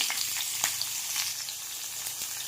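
Kantola (spiny gourd) and chopped chillies sizzle in hot oil with cumin, mustard seeds and asifoetida, giving a steady, close, bright crackling hiss with small pops throughout and no talking.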